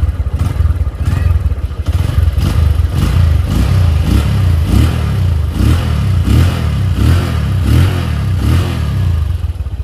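A stock original 2010 Honda Mega Pro Primus motorcycle engine runs steadily and close by, with a loud, even idle and rhythmic throttle blips rising and falling throughout.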